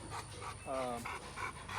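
A working protection-bred dog in a K9 kennel yard pants steadily in quick, rhythmic breaths close by, with a brief whine partway through.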